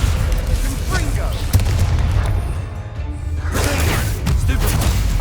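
Confringo blasting curse exploding in the Hogwarts Legacy video game: a loud, rumbling boom with crackling debris that briefly thins out, then swells again, with a voice calling out the spell.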